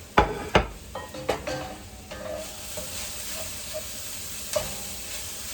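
Peppers hit a hot pan for a chicken stir-fry, with a few sharp knocks and scrapes up front giving way to a steady close sizzle and occasional stirring clatter.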